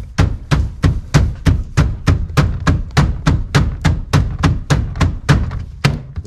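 Rubber mallet thumping a carbon fibre steering wheel loose on a Honda Civic FN2 Type R, about twenty dull, evenly paced blows in a steady rhythm, close and fairly loud.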